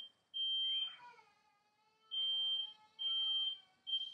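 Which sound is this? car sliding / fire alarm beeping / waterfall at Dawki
fire alarm beeping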